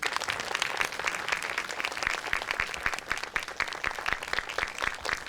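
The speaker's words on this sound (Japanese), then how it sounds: "沖田監督、どうぞ拍手でお迎えください。" A theater audience at a film Q&A screening at the Tokyo International Film Festival applauds to welcome the film's director, with dense, steady clapping that fills the room throughout and no speech over it.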